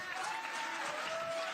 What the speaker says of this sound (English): Oh damn, that got an applause.